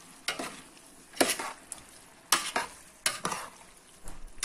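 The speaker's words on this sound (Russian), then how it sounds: "Все сейчас активно перемешаем." Mushroom solyanka with tomato stirred vigorously in a pan, making repeated sharp scraping strokes in an irregular rhythm over a faint sizzle.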